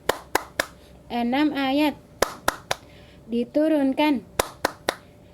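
Rhythmic hand clapping for the Tepuk An-Nas chant, crisp claps in short patterned groups alternating with a woman's chanted speech, close and clear.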